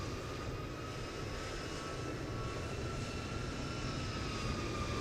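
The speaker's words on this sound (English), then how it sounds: "There's Tom down there taxiing" A jet airliner taxis at an airport in Microsoft Flight Simulator, its engines a steady, even roar with a faint whine on top, constant and unbroken throughout with no voices.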